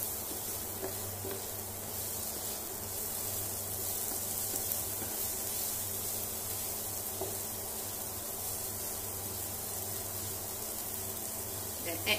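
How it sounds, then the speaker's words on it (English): Onion and garlic stir-frying in a pan give a soft, steady sizzle and hiss, faint and continuous throughout with occasional light clinks of stirring. "Stir fry until you can smell the fragrance of the onion and the garlic."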